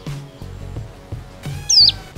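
A songbird sings in short bursts, ending in a loud, rising whistled phrase, with low background noise between calls.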